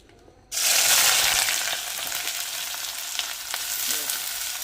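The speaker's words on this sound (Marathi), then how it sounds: "आता आपण तेल तापलेलं आहे आणि त्यामध्ये आता आपण घालूया कांदा" Onion hits hot oil for a sand-grown fenugreek dish, bursting into a loud, sudden sizzle that holds as a dense, close frying hiss with faint crackles, no one talking.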